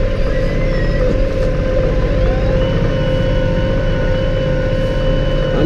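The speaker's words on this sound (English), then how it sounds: "It amazes me how quiet this tractor is running at" A brand new Massey tractor hooked to a rock rake runs steadily at 540 PTO RPM, a continuous low drone with a faint whine layered over it, heard close and even from inside the cab, with no voices.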